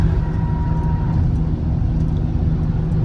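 A 28-year-old Lexus cruising at 80 mph, giving a steady, loud low road and engine drone with constant tire rumble and wind noise from inside the cabin.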